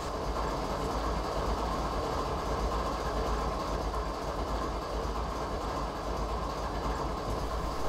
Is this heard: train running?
yes